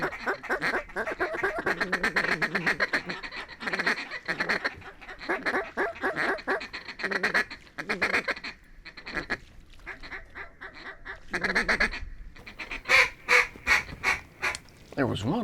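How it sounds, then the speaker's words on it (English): Ducks flying in over a duck-hunting spot, with repeated quacking and honking calls that come and go in bursts, some close and loud, others farther off, amid rustling and a little murmured talk. "we're starting to get a couple ducks traveling"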